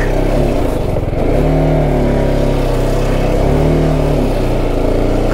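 Car engine revving hard while struggling over a rough, bad road, a loud close droning growl with uneven surges throughout.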